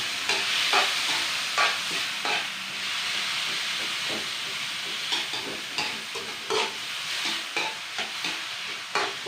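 Shark meat and tomatoes frying in a pan, a loud hissing sizzle running throughout, broken by repeated knocks and scrapes of a spatula as the pieces are stirred.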